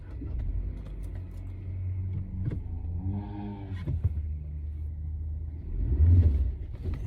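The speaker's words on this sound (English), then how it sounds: "You hear the engine roar? It's time to shift up." A manual-transmission car engine rumbles steadily, its pitch rising in a brief rev midway and swelling louder again near the end.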